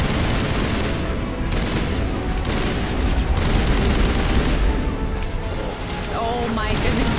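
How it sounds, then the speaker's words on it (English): Sustained assault rifle fire in the video game Mass Effect, a loud dense barrage of rapid shots rolling continuously with booms and mechanical clatter throughout. "I have to use an assault rifle."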